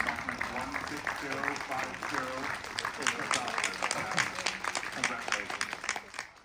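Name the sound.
applause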